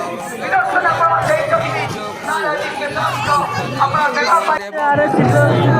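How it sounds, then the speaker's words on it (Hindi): A dense crowd bustles inside a temple during the Chadak Mela festival, with many overlapping voices chattering and calling out close by in a continuous loud hubbub. "इधर ही पूरा ज़्यादा भीड़ है"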